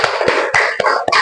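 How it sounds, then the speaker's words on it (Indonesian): Classroom students applaud group 3 with a dense burst of hand clapping, several sharp claps standing out, loud and close for about a second. "beri tepuk tangan untuk kelompok 3"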